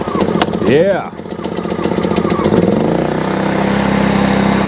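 Gas generator engine cranking and catching, then running steadily at a loud, close drone, with a brief spoken word at the start.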